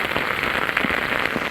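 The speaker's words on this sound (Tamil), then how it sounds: "சிவகங்கை மாவட்டத்தில் மானாமதுரை, சிப்காட், கீழக்கண்டனி, உருடி உள்ளிட்ட பகுதிகளில் மிதமான மழை பெய்தது" Moderate rain falling in Sivaganga district, a steady dense patter of drops on surfaces with no voices over it.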